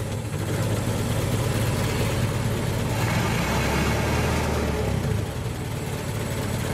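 A Ford Model T engine runs on magneto, giving a steady loud mechanical chug and rumble with a slight change in tone midway as it keeps running, and no voices over it.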